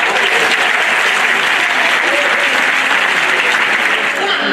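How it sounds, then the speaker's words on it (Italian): Audience applause in a theatre after a reading or talk, steady dense clapping at close range that fills the whole stretch without a break. "Fai un applauso"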